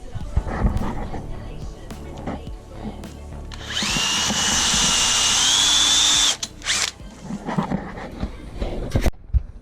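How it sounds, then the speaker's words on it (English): A power drill counterbores screw holes in a wooden batten for a camper van bed. Handling clatter comes first, then one loud, steady high whine lasting a couple of seconds, followed by scattered knocks and faint talk. "And I'm going to counterbore them for the screws."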